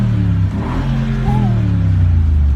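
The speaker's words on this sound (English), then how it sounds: "This is Mercedes-Benz G63 AMG. Yes. Listen to this." A Mercedes-Benz G63 AMG engine hums at a low, steady pitch, close and loud, with a brief slight rise in revs midway.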